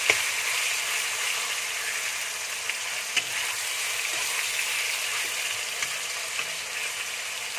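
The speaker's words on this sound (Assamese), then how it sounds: "এয়া এইখিনি অলপ টাইট ফ্ৰাই কৰি ল'ম মই।" Chicken meat fries in a pan with a loud, constant crackling sizzle close by, dotted with small pops and a few sharper spatters along the way.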